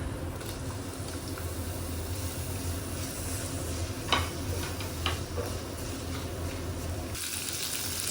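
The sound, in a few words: onions sautéing in a pan for moru curry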